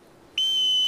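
A single sharp, sustained whistle blast from a flying instructor at a broomstick lesson, starting abruptly and held steady, loud and close with no talk over it.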